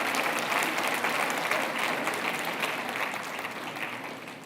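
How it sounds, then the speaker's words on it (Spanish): An audience at a lecture breaks into steady, fairly loud applause, a dense wash of clapping that holds evenly and then begins to taper off toward the end. "Ahora sí aplauden, ¿verdad?"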